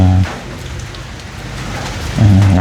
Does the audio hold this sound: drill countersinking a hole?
no